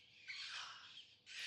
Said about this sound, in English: Can you hear the parrots? I hope this is picking it up.